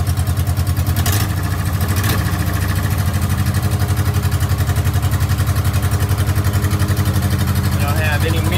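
Engine of a barn-find Austin-Healey Sprite runs at a steady, rhythmic idle just after starting. It is close and loud, with a couple of sharp clunks early on and a faint squeak near the end.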